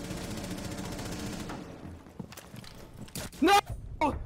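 A gunshot in a one-on-one shooter match cracks out as a sharp, loud burst near the end, preceded by a clattering of smaller impacts over fading game noise.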